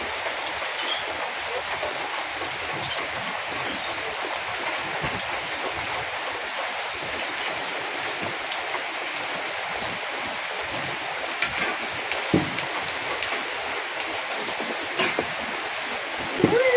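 Nimki dough pieces made from egg, sugar and flour frying in moderately hot oil, a steady dense hiss and crackle of bubbling fat that runs continuously throughout at moderate loudness.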